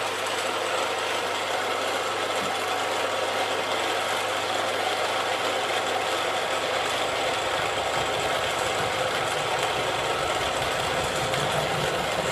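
A homemade sheet metal roller machine runs steadily at about 280 RPM, a constant close mechanical hum and rattle without pauses.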